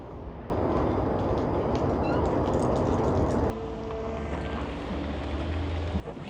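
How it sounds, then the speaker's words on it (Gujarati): Strong gusting wind blows outdoors in severe cold around minus 20 °C at a winter campsite, a loud, steady broadband rush that roars close to the microphone, drops slightly partway through and ends in a sharp buffet. "અત્યારે બહુ ફૂલ પવન છે"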